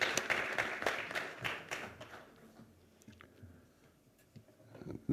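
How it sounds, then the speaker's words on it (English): An audience at a national logistics summit applauds the panel, with a burst of scattered clapping that thins out over about two seconds, followed by quiet room noise and a faint knock. "One round of applause again for all of you."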